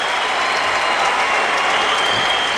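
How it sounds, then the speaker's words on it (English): Hockey fans fill an arena at a New York Rangers versus New York Islanders game in 2006, their loud, dense cheering and clapping forming a steady roar throughout. "So the fans are standing and chanting and cheering."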